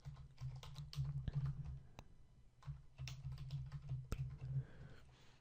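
PHP code gets typed on a computer keyboard in quick, soft, close-up bursts of key taps, with a few louder clacks and brief pauses between runs.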